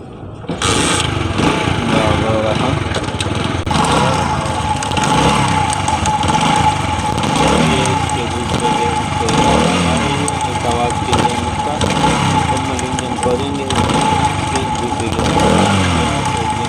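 Honda CD 70 motorcycle engine running with a fault in its second-gear pinion, a loud, steady close-up drone with a persistent whine throughout, as someone talks over it.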